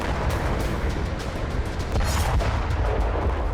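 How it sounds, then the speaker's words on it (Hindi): A missile strike hitting a building in Sidon, Lebanon, with heavy rumbling blasts and crackling bursts, a dense, loud roar that swells again partway through. "ये बीती रात का वीडियो है जब इजराइल ने लेबनान के सिदोन शहर पर पहला मिसाइल हमला किया। ये मिसाइल सीधी एक इमारत से जा टकराई।"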